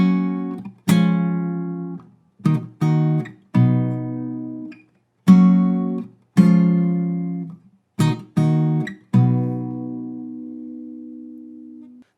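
A guitar chord progression for a song is played alone and close, each chord struck sharply and left to ring before the next. Several quick strums come in pairs, and the final chord sustains and fades.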